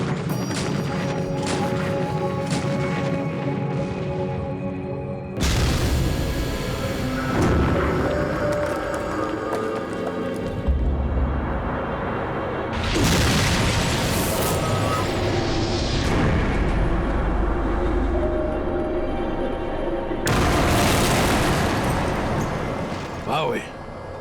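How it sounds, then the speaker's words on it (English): A Bofors gun in the battle for Caen fires on houses, apartments and churches, giving heavy booming crashes every several seconds within a loud, dense din, with a voice talking throughout. "mighty powerful gun, that Boffer gun"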